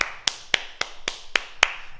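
A martial arts fitness group applauds itself after an exercise. Seven crisp claps land in a steady, evenly spaced rhythm, sharp and fairly close, with no talking.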